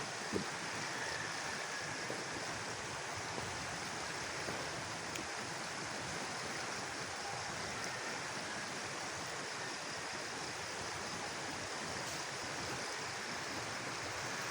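Steady, dense rush of flood water roaring continuously as a swollen stream overflows nearby after heavy rain, with no voices.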